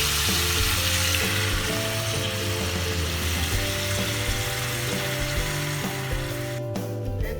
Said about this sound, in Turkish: Ve Üzerine et suyumuzu ekliyoruz.